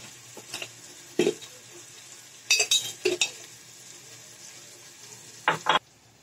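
Spices roast in a pan for a breakfast thali, giving a soft sizzle under brief clinks and scrapes of a spoon stirring against the metal, with a few isolated bursts.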